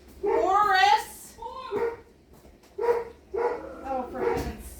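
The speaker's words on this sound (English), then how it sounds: "No barking." Boris the dog barks and yips in several short bursts near the microphone, mixed with excited whimpering, in a home kitchen during holiday dinner preparation.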